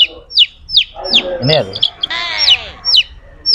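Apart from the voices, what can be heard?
native country chicken chicks chirping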